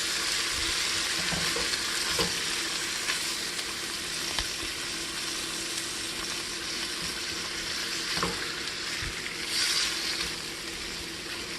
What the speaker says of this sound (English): As you can hear, the pot's calming down now.